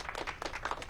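A brief burst of clapping from a small group on a theatre rehearsal stage, quick uneven claps running for about a second.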